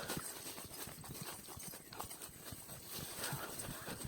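A horse's hooves clop steadily on a muddy trail during a countryside ride, the soft rhythmic hoofbeats close by amid faint outdoor noise.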